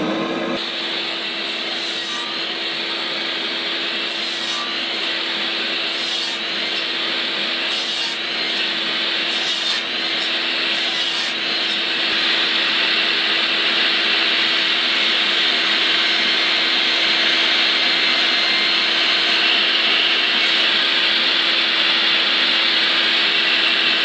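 A Makita dust extractor runs with a power sander working on wood. A loud, continuous whooshing roar holds steady throughout, with faint rubbing and scraping underneath and a few brief tonal blips early on.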